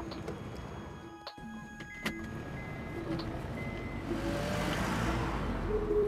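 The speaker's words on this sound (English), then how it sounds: "it's time for me to grab my Honda Accord and get on the road" A Honda Accord pulls away in Kuala Lumpur traffic, its engine hum rising gradually into a smooth, fairly quiet drone, with a few electronic beeps and clicks early on.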